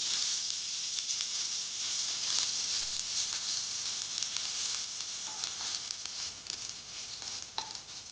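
A teaspoon of coconut oil goes into a hot pan with curry leaves and sizzles and spatters in a steady, close, continuous hiss, with small pops scattered throughout.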